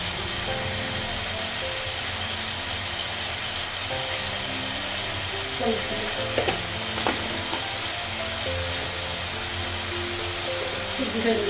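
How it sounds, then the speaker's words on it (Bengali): Spices frying in a pan before cauliflower and potato are added make a steady close sizzle with a soft hiss of steam, and stirring scrapes and a couple of sharper clinks midway. "মশলাটা একটু ভেজে নেব"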